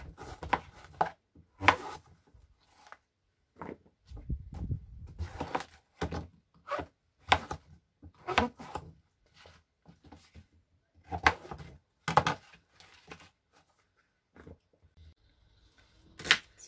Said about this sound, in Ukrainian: Тому нарізаємо такими кусочками, які зручно зайдуть до вашої м'ясорубки.